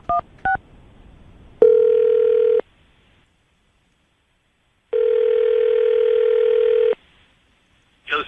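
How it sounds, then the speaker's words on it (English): Telephone call placed from a radio studio: two short keypad beeps, then a long steady tone, a pause, and a second extended tone, ending with a brief burst at the close. "we'll call him right now, see if we can get him on the phone"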